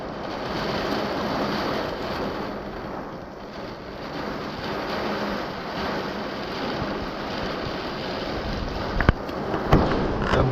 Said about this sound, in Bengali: এত পরিমাণে ঝড় হচ্ছে